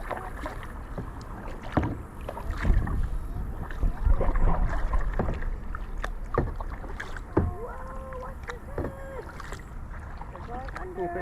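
Paddles working a rowboat or canoe on a lake, with irregular splashes and dips of water against a breezy background, while people talk nearby throughout.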